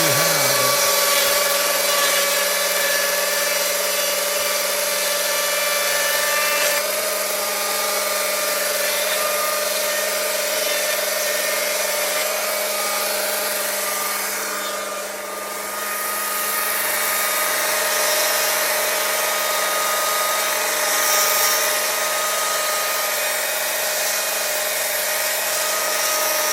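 A Stihl MSA 220 C electric chainsaw whines steadily as it cuts through thick old hardwood, a continuous close, loud buzzing drone that dips briefly midway before resuming.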